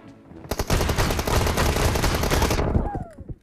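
Gunfire from the PUBG Mobile video game, fired from a new shotgun, rattles off in a loud, dense burst of rapid shots for about two seconds before stopping abruptly, with a voice shouting over the shooting.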